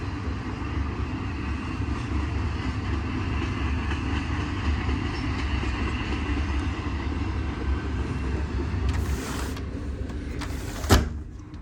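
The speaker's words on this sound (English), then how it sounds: "And here comes a train." A continuous low rumble and rushing roar of a passing Norfolk Southern freight train at Cresson, Pennsylvania, steady throughout, with a couple of brief sharper bursts near the end.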